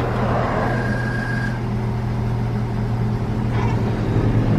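A 1965 Ford F100 engine idles with the clutch pedal pressed, a steady low rumble with a faint whine rising briefly, close and continuous.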